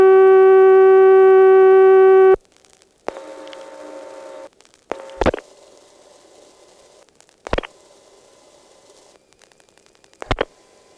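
A 1977 telephone call to a repair line in Bowling Green on an old crossbar exchange, opening with a steady multi-tone hum that cuts off, then quiet line hiss broken by several sharp clicks and thumps.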